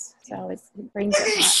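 A single sneeze bursts out near the end of the short stretch, loud and close, after a few spoken words from a person in the clip.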